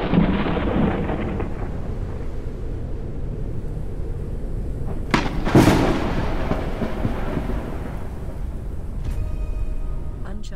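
A thunderstorm in the Forever Skies video game, with steady rain and wind rumble and a sharp, loud thunderclap near the middle, voices faint underneath.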